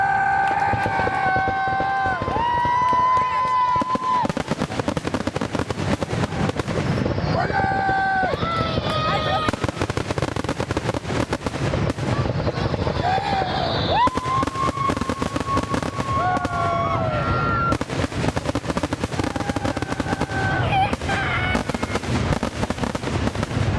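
Lake Orion fireworks show, shells launched from a barge on the lake at night: repeated booming bursts and crackles, with rising whistling tones, under continuous crowd chatter and voices along the shore.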